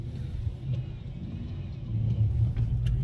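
A farm truck on bald tires grinds up a slushy, foggy driveway, its engine a steady low rumble that swells louder toward the end, close by with no talk.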